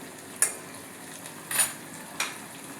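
Vegetable upma mixture being stirred in a pan, with three distinct scraping clinks of a spoon against metal spaced over a quiet, faint background.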